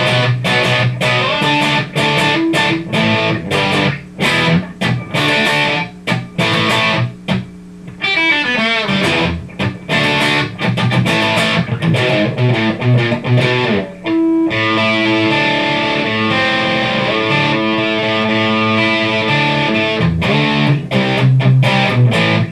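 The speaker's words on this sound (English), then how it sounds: "the overdrive 1 is like the mellow distortion channel. I call this my classic rock tone." An electric guitar with overdriven, mildly distorted tone plays rhythmic chords and riffs, loud and up close, with no voices.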